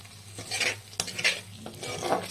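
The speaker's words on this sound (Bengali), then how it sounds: "একটু নাড়াচাড়া করে নামিয়ে নেব" Utensil scraping and stirring fried shrimp in a pan over a soft sizzle, with a few distinct clanks of metal against the pan.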